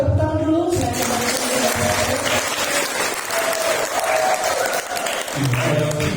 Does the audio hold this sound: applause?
yes